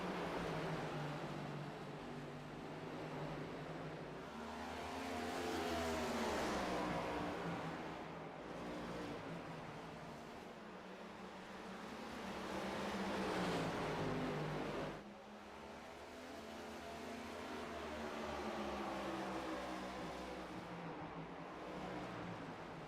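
Stock cars racing around a track, a continuous roar of engines that swells and fades as the pack passes, with overlapping pitch sweeps, heard from a distance with no talking.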